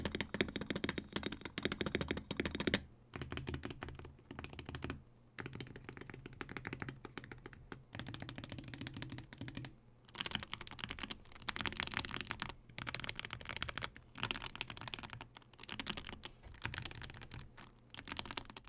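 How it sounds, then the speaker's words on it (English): Steady typing on a lubed Polar 65 rapid-trigger mechanical keyboard with soft, poppy clacks in quick bursts, separated by brief pauses, close to the listener. "it makes for a very nice smooth typing experience with a very poppy sound signature"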